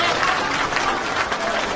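A crowd breaks into loud, continuous applause, a thick wash of many hands clapping at once, steady for the whole short stretch.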